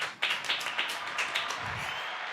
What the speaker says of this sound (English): Everybody claps producer Terry.